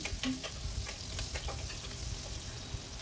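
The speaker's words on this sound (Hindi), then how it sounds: "अब हमने तेल में हींग और जीरे का तड़का लगाया है, साथ में थोड़ी सी मेथी भी डाली है।" Asafoetida, cumin and fenugreek seeds sizzle in hot oil for a tempering, a steady close crackling fizz with light stirring scrapes.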